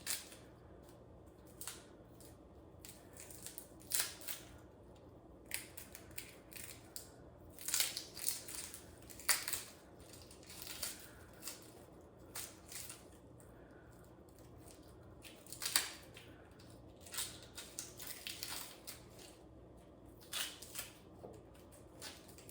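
A knife chops through a red onion and its papery peel is pulled away on a cutting board, sharp crisp cuts and crackles scattered irregularly over a quiet kitchen background.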